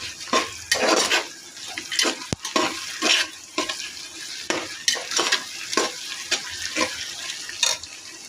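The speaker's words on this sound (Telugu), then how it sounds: "అల్లం వెల్లుల్లి పేస్ట్ వేసుకోవాలి వేసుకున్నాక ఒకసారి కలుపుకోవాలి" Ginger garlic paste sizzles in hot oil for chicken biryani while a spoon scrapes and knocks against the pan in irregular strokes, close and loud, with no voices.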